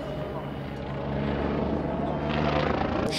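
A loud, steady engine roar of race planes passing overhead at the Red Bull Air Race in Abu Dhabi, broadband and continuous, swelling slightly toward the end with a faint voice beneath.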